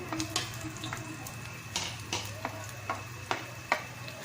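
Onion and garlic sauté in hot oil in a home kitchen, a soft steady sizzle broken by a handful of sharp clinks and taps from stirring, close and fairly quiet.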